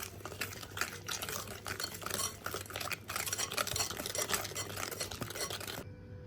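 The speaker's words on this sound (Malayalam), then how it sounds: "നമുക്കിനി ഒരു വിസ്ക് ഉപയോഗിച്ച് മിക്സ് ചെയ്യാവേ" Banana loaf batter whisked in a bowl, a steady busy scraping and stirring of the whisk against the bowl's sides, close and continuous for several seconds, then stopping abruptly.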